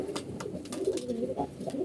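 Commercial-line pigeons kept in pairs in a loft coo softly nearby, a few low, rolling calls repeating over quiet background noise.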